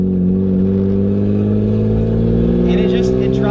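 Lexus fitted with a 1JZ engine running steadily while driving, a strong low harmonic drone holding close and loud throughout, with a slight rise in pitch near the end.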